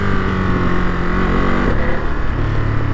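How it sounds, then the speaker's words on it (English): A 2022 Ducati Monster's engine burbling under way, a loud close throbbing drone with a pitch change midway as the rider shifts, steady throughout. "this great little burbly motor, which is fun"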